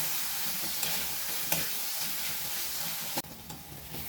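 Spice paste sizzles in a pan with washed dried fish while a spoon stirs and scrapes steadily, close and fairly loud, ending with a sharp clack.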